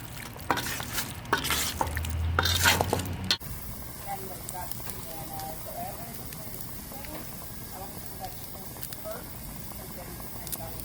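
Pineapple rum jerk chicken wings coated in sauce on a hot grill, crackling and sizzling as they are flipped, with a louder burst of sizzle and clatter early, then a quieter steady crackle, while someone talks.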